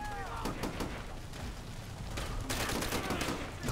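Gunfire in Call of Duty: World at War during co-op play, rapid automatic bursts and overlapping shots crackling continuously with a brief whistling sound near the start.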